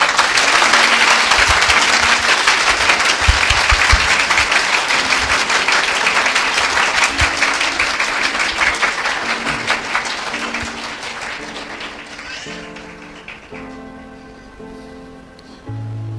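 A church congregation breaks into loud, full applause for Jesus Christ, a dense clapping that gradually thins and fades over the final seconds while soft music rises underneath.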